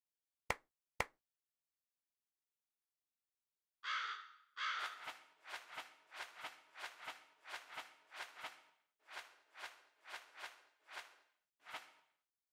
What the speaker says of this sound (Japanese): カスガイガラスは主に連絡用のカラスでございます。